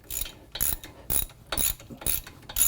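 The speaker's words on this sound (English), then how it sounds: "with my highly calibrated torque wrench" A torque wrench ratchets a Torx screw on the front brake carrier of a Land Rover Discovery Sport, five quick bursts of clicking at close range with brief pauses between strokes and no talk.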